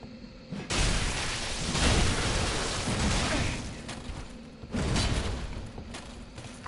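Lightning weapon attack in Dark Souls III, heard as loud crackling thunderous bursts, one long surge followed by a second strong blast, with no voices.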